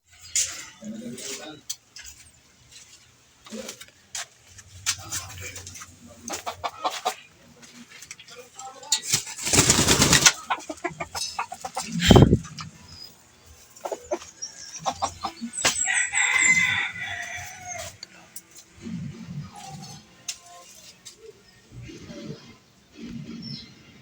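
Hens cluck and a rooster crows repeatedly at moderate distance during breeding season, with a person talking over the farmyard noise.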